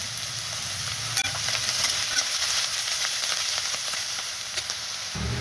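Onions sautéing in oil in a pan with a little coriander, frying until pinkish, a steady close sizzle with occasional stirring clicks and no talk.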